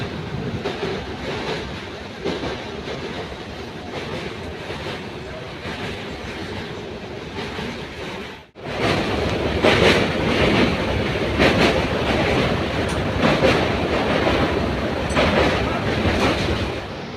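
A train rumbles past on the rails, loud and close, with a steady clattering roar. There is a brief dip about halfway through, then a louder, clickety-clack stretch. No clear talking is heard over it.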